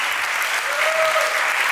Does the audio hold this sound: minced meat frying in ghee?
no